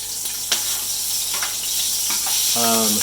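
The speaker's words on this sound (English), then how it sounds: "We want to cook them until they're starting to get a little bit crispy." Fresh prik kee noo Thai chili peppers frying in hot oil for cashew chicken, a steady close sizzle with a few sharp pops, then a brief clatter near the end.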